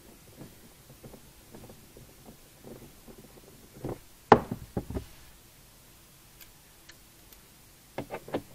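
A ratchet with an 8 mm socket turns a bolt while a tailgate lift motor is replaced on a 2016 Volvo XC90 T8. The sound is soft, irregular clicking with a few sharper knocks, heard close and alone.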